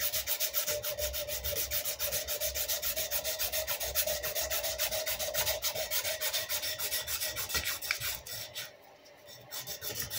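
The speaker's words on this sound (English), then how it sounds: "Got a little 100 grit sandpaper. I'm just gonna" A wooden handle of a vintage Craftsman fender body hammer sanded by hand with 100 grit sandpaper, a steady rapid back-and-forth rasping close up, pausing briefly near the end before resuming.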